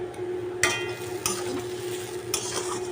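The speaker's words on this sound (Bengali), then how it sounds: "আলু ভাজছি" Potatoes frying in a pan, a low steady sizzle broken by a few sharp scrapes and knocks of a spatula stirring, close and fairly quiet, with no talking.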